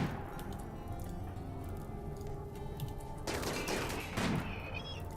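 Gunfire aimed at a Scyther in RimWorld comes as rapid crackling bursts in the second half, over a steady game background hum.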